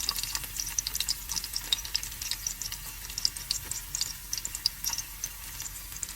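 Garlic frying in hot oil in a pan, a steady close sizzle with fine crackling pops spread evenly throughout, no voices.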